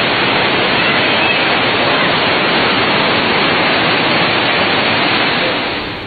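Rainwater rushes down a street in Odessa as a dense, loud, unbroken roar of flowing water that fills the whole scene, with no voices.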